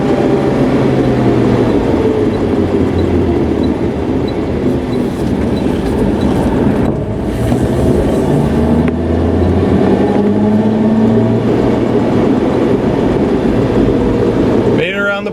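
A classic car that had sat unused for years drives around a block in first and second gear, with a steady engine drone and rumble, some rising and falling tones as it pulls, and a sharp noise at the end.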